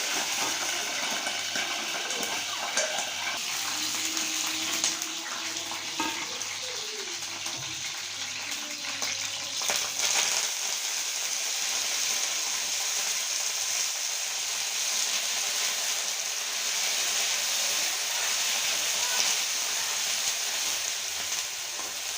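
Chillies fry in oil in a pan for coconut chutney, a soft, steady sizzle with faint stirring that carries on for a long stretch without pause.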